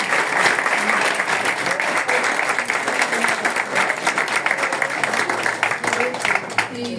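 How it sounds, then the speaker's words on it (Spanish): An audience at a group art exhibition in Alicante's Casino Mediterráneo claps for Fermín: sustained, fairly loud applause from many hands with a few voices underneath, running steadily for several seconds. "Fermín, un aplauso."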